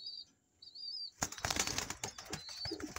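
Pigeons burst into flight with a flurry of loud wing flaps, preceded by faint high chirping and followed by softer flutters.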